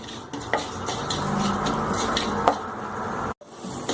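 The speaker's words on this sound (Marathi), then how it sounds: "तेल थोडंसं गरम झाल्यावर त्यामध्ये मेथी तळून घ्यायचं" Fenugreek seeds frying in a little hot oil in a kadhai, with a soft steady sizzle and a few light clinks of a spoon stirring against the pan, close and without talk.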